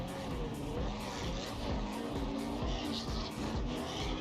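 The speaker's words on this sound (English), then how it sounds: "I'm hearing some engine." A drift car engine at Tsukuba circuit during the ESDA 2024 World Championship main event growls and revs at a distance, with rough pulsing and hints of tire squeal in the background.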